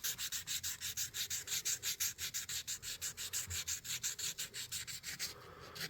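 600 grit sandpaper rubbed on the metal blade of an old knife, giving close, quiet, rhythmic back-and-forth scraping strokes, evenly paced, about four to five per second, with no talk.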